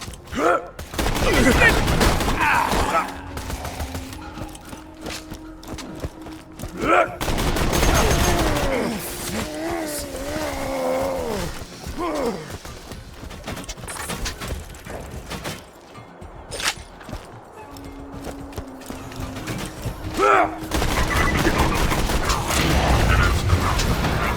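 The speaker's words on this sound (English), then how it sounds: "Shooting things is fun! Guns! Glorious guns!" Guns fire in Borderlands 2, with fusillades of rapid shots and mechanical reloading clatter in bursts across a busy game soundscape, mixed with game voices and effects.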